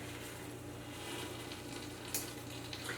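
Two whisked eggs frying in olive oil in the bottom of an Instant Pot give a faint, steady sizzle throughout, with no talking.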